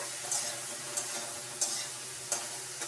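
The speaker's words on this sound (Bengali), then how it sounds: "এমনি হলুদ দিয়ে একটু ভেজে নেব" Ridge gourd frying with turmeric in a pan, a soft steady sizzle with four or five brief, evenly spaced stirring clicks or scrapes, fairly quiet and close, no talking.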